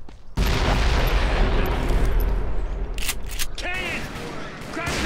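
Cannon fire in the Call of Juarez: Bound in Blood video game erupts in a sudden loud boom, followed by a long rumbling roll of blasts and debris that gradually thins, with shouted voices near the end.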